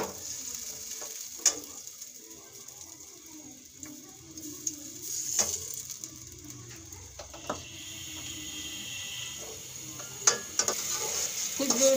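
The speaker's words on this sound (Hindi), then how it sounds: "कुछ देर लहसुन अदरक फ्राई होने के बाद" Garlic and ginger paste fries in onions for a fish curry with a quiet, steady sizzle, broken by occasional sharp scrapes and clinks of stirring in the pan.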